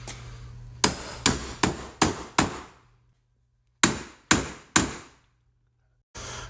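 A hammer strikes the U-joint on the Dana 35 TTB front axle of a 1991 Ford Ranger: a quick run of five sharp metallic blows, a pause, then three more. Each blow is loud and close, and a faint hum sits under the strikes.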